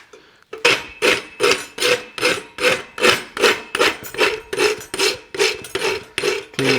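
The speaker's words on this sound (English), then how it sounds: "I won't finish filing it, but I've got most of the work done now." A farrier's rasp filing a horse's hoof for a Mustad forged shoe, with about fourteen brisk, rhythmic scraping strokes in quick succession, close and loud, with no talking.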